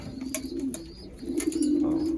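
A racing pigeon coos inside its loft, giving low, rolling, throaty calls that repeat twice close by. Faint chirps and rustles sound in the background, and there is no talk.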